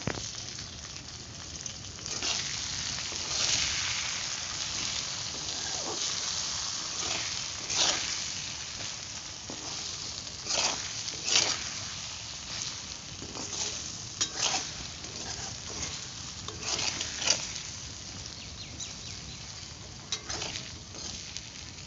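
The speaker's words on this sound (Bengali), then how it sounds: "এখন ভালো করে নেড়ে নেবো আলুটা" Potatoes fry in oil, a soft constant sizzle broken by repeated scraping and clattering strokes as they are stirred in the pan, fairly quiet and close, with no speech.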